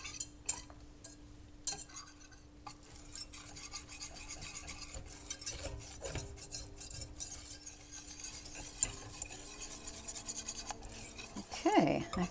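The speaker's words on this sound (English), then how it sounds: "We're going to whisk that constantly until it's blended." Brownie mixture whisked constantly in a pot on the heat, giving a steady close scraping and stirring sound with light metallic clinks throughout, with no talking.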